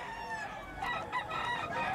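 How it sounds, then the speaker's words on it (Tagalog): Chickens at a gamefowl market in Bocaue, Bulacan, including White Kelso stags, clucking and crowing close by in a short, busy burst. "Maganda tong manok na to."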